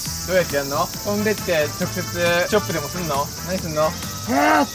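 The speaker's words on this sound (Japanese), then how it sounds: "蝉の鳴き声が消えた。" A steady, high buzzing drone of cicadas fills the whole stretch outdoors, running continuously under close, animated conversation between people.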